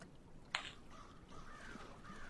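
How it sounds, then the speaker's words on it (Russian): Crows cawing in the video game Rusty Lake Paradise, a sharp short caw followed by fainter drawn-out calls over a quiet background. "О, там уже вороны кричат."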